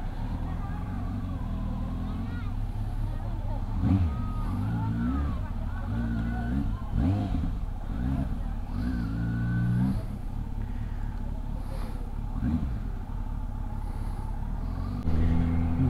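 A Kawasaki Z900 superbike engine turns over and idles with a deep rumble, rising in several throttle blips and revs close by, while someone talks over it.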